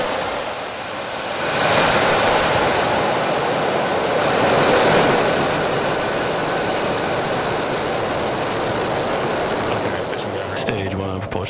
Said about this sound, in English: Falcon 9 is configured for flight. Ten, nine, eight, seven, six, five, four, three, two, one, zero. Ignition.